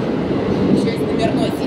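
Inside a moving metro train car with an older exterior and renovated interior, a loud steady rumble of wheels and motors fills the space, with faint squeals and people talking over it.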